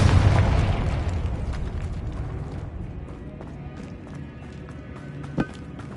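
A Confringo spell explodes inside a tomb in the video game Hogwarts Legacy. A loud, rumbling blast at the start fades into a long echoing decay, followed by one brief thump.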